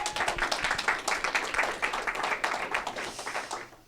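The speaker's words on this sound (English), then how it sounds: "Give yourselves a round of applause for showing up." Audience applause at a monthly marketing meetup, a dense, steady clapping from a room full of people that carries on for a few seconds before starting to fade, with no talk over it.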